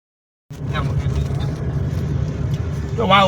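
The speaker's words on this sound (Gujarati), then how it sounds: "ગોંડલ રાજકોટ હાઈવે 5 કિલોમીટરનું ફૂલ ટ્રાફિક" Steady low engine rumble of slow, congested vehicles on the Gondal–Rajkot national highway during a five-kilometre traffic jam, continuous and fairly loud, with a brief horn-like tone near the end.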